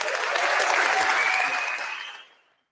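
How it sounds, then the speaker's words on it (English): An audience claps for Milwaukee Bucks players in a studio setting, a dense burst of applause that holds steady for about two seconds, then fades out quickly. "Bobby, Miles, AJ, Pete, Cormac, let's give them a round of applause."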